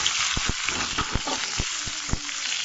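Garlic and small bird's eye chillies frying in a pan for a bitter gourd and jaggery pickle, a dense close sizzle under a run of regular spoon taps and scrapes as the mixture is stirred; no voices.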